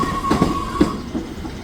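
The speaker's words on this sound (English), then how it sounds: "Probably not, seeing as it's a two-car train." Two-car passenger train rolling past, a steady rumble with rhythmic clicks of wheels over rail joints and a faint whining tone, fairly close and without talk.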